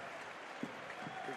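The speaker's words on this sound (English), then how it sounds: "The fans applauding the intentions, though, of Luis Suarez" Football fans in the stadium at a Barcelona versus Atlético Madrid match give a faint, distant ripple of applause beneath the steady crowd roar, with a few louder individual claps standing out.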